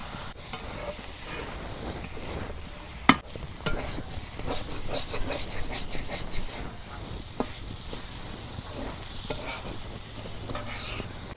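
Cabbage stir-fried in a pan in a village kitchen crackles steadily up close, with repeated scraping stirs and a couple of sharp knocks of the utensil on the pan.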